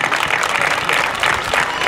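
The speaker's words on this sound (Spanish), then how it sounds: "un fuerte aplauso para ella que está aquí con nosotros" A crowd applauds the children's queen at a Día de Reyes celebration in Loma Bonita: dense, loud, continuous clapping filling the whole moment.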